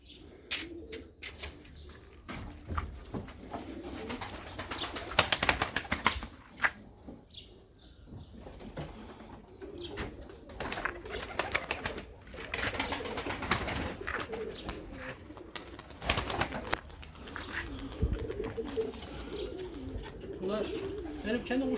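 Moulting pigeons coo and shuffle in an enclosed coop, with wing flutters and scattered clatter, and people talking intermittently throughout.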